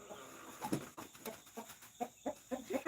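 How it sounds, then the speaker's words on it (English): A backyard chicken clucks in a series of short, quick clucks with small pauses between them, fairly faint and near, with no voices. "Crazy chicken."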